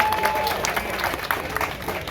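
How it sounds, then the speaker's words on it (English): An audience applauds steadily for a humble man at a community panel event. The clapping is a dense, continuous wash, moderately loud, with some crowd murmur mixed in. "Yeah, give him a round of applause."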